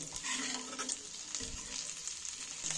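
Halved boiled eggs fry in oil in a pan for dhaba-style egg curry, a steady close sizzle and crackle that runs throughout with no talking.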